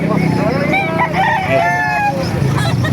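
Roosters crow and chickens cluck at a busy live poultry market in Calumpit, Bulacan, with overlapping loud crows in the foreground and crowd murmur and traffic beneath.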